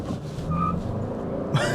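Toyota Crown Signia hybrid doing a brake-torque launch in sport mode: a steady low car rumble with a faint tonal whine, swelling slightly near the end as the launch begins.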